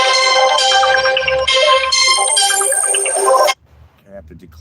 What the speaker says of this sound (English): I'm getting phone calls on my phone.